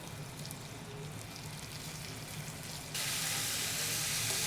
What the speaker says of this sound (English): What you're looking for with your beef is a hard sear